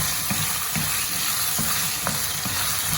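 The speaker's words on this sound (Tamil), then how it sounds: "இந்த மாதிரி ஓரளவு கிளறி போட்டு இப்போ உருளைக்கிழங்கா போடுவோம்" Potatoes and drumsticks frying in a pan for milk curry, a steady close sizzle broken by soft, regular scrapes of a spoon stirring every half second or so.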